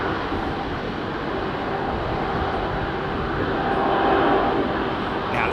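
Jet airliner engines roar steadily at a London Heathrow runway 27R departure, a loud broadband rumble that swells slightly toward the end, with no talk over it.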